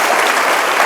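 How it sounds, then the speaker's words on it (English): A loud, dense burst of audience applause at a talk on higher education, continuous and full for just under a second. "Will you give him another round of applause,"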